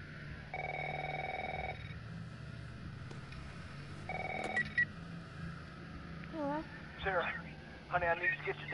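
Old telephone ringing in The Last of Us video game, two long clear rings a few seconds apart over a low hum, followed by game sound effects and short electronic chirps.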